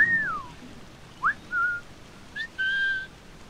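Short whistled calls for a horse in Assassin's Creed 4 Black Flag, a gliding note followed by several brief pitched whistles in quick succession, clear and moderately loud over faint background hiss.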